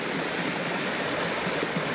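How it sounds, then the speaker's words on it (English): Running water at a low river crossing on Chesapeake Road in south-west Western Australia, a close, continuous rushing and burbling stream that stays steady throughout with no voices. "There's actually running water here."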